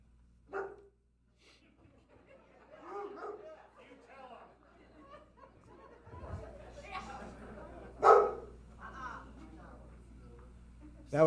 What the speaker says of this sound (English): That was my personal dog barking back there